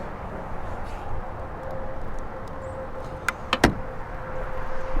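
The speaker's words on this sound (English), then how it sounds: "this truck actually has the power retractable running boards" Power retractable running boards on a 2022 RAM 2500 Laramie Night Edition truck, a faint steady motor whine with a few sharp clicks and a thunk near the end, close and quiet.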